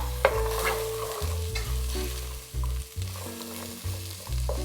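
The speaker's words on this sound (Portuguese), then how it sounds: "Vou colocar a abóbora, já cortada em cubinhos. E refogar um pouquinho também." Diced pumpkin hitting olive oil with onion already softened in the pan, sizzling and frying steadily while being stirred, with scraping stir strokes over a continuous close sizzle and no talking.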